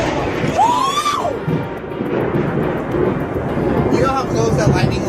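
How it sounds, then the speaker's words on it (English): Thunder from a close lightning strike during a storm, a loud rolling rumble with crackling, accompanied by people's excited voices throughout. "You know how close that lightning was?"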